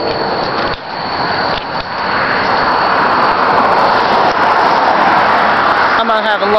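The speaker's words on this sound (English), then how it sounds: "Here comes a few cars right now, people." Several cars roll past on a road where a phone has been left to be run over, a steady loud broadband traffic roar that swells and holds throughout, with no distinct impact standing out.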